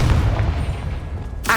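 A Confringo fire spell cast in Hogwarts Legacy, a loud booming blast with a rumbling tail, then a sharp bright burst at the very end.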